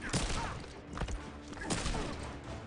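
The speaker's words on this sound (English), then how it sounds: "Gunshots paying off again." Gunshots from the Injustice 2 fighting game during a tournament match, a few sharp cracking bursts spaced out over a dense, faint mix of game sound effects.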